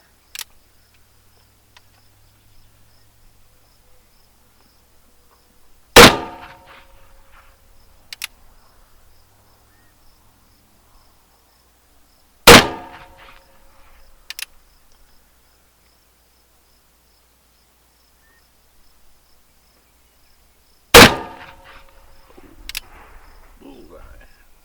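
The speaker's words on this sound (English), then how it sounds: "we'll go ahead and we'll shoot this second group on the dot on the left." A Colt 36 revolver fires conical bullets from Eras Gone Bullets at a range, three sharp, loud shots spaced several seconds apart, each with a short ringing decay and a quieter follow-up report.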